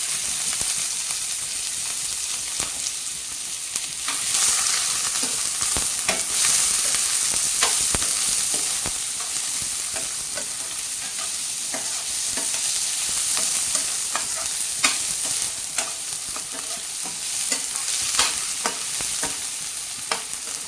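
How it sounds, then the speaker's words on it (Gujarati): Finely chopped onion and dried red chillies frying in hot oil, a steady dense sizzle with frequent scraping stirs and clicks of a spoon against the pan, close and loud throughout with no talking. "સૂકા મરચાં ઉમેર્યા પછી તરત જ આપણે ઝીણી કાપેલી ડુંગળી ઉમેરી લેવાની."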